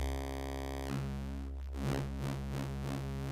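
A modular synthesizer oscillator plays a steady buzzy tone, then its variable waveform sweeps and wobbles in repeated pulses as the shape shifts, loud and alone with no talk.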